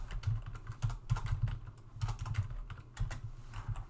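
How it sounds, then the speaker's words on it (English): Rapid typing on a computer keyboard during a programming lecture, a steady run of close, crisp key clicks with short pauses, no voices over it. "Wow, I'm having trouble typing."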